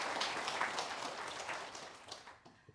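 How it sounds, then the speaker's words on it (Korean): Audience applause at a Korean Buddhist broadcast charity campaign event, a steady wash of clapping from a crowd that holds for a couple of seconds, then thins and fades toward the end. "박수 한번 주세요"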